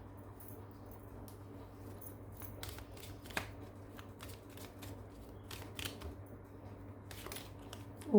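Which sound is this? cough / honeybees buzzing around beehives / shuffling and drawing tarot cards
shuffling and drawing tarot cards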